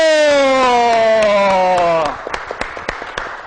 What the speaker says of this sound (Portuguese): vamos aplaudir o nosso presidente, Dr. Valdir Vitório!